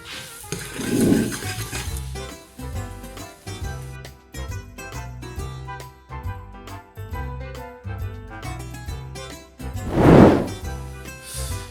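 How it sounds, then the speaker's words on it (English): A spoon stirs a pot of Napoli sauce with garlic and pepper, giving scraping and knocking sounds against the pot over a soft sizzle, with louder stirring bursts near the start and end. "And give it a mix."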